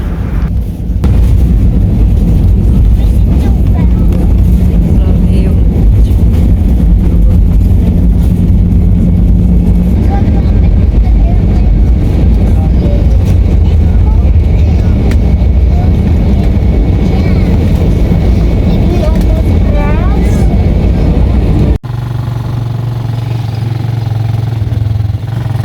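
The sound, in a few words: airplane landing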